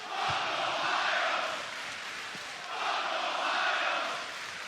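A wrestling arena crowd in Detroit roars and cheers in two swelling waves, a dense, distant-sounding wash of voices with commentary underneath.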